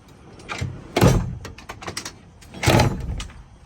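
A sliding bed drawer in a camper van is pushed shut, giving two distinct rolling thunks about a second and a half apart, close by and moderately loud, with small clicks and rattles between them.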